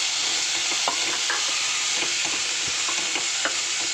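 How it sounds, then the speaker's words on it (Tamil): Beetroot stirred and fried in a pan for a Tamil-style kootu, giving a steady soft sizzle with scattered scraping clicks from the spoon, near and continuous, with no one talking. "இப்போ பீட்ரூட்டை போட்டு நல்லா கலரணும்."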